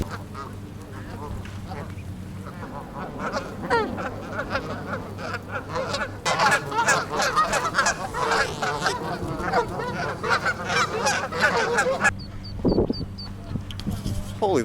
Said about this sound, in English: those are some of the smallest ducks I've ever seen